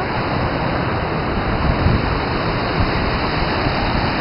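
A waterfall near the end of a rocky stream makes a loud, steady rushing roar with no breaks.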